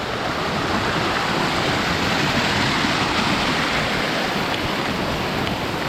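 Tumpak Sewu waterfall pours down from many points at once in a dense, continuous roar of falling water, heard up close with no talking.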